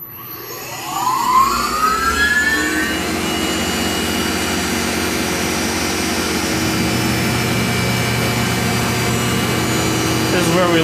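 A Tormach CNC mill spins up and runs its next machining step, with a rising spindle whine that settles into a loud, steady mechanical drone lasting throughout.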